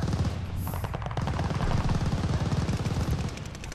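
Rapid sustained machine gun fire in the shooter game Vanguard, a loud continuous burst of closely spaced shots running steadily for several seconds with no talking.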